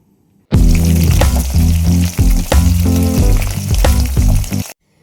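Mustard and cumin seeds fry loudly in hot oil for a fish dish, a dense, continuous sizzle that starts abruptly, crackles with repeated spits, then cuts off.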